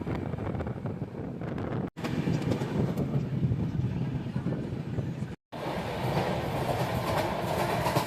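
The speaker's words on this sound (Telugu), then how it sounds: "ఢిల్లీలో ట్రైన్ ఎక్కి హైదరాబాద్కి స్టార్ట్ అయినా." Passenger train running on rails from Delhi to Hyderabad, a steady loud rumble with rhythmic clickety-clack and wind buffeting the microphone, continuous apart from two brief dropouts.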